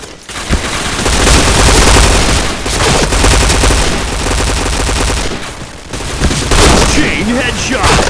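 P90 gunfire in a first-person shooter game, loud rapid bursts of automatic shots that repeat in dense volleys with short pauses, filling most of the stretch.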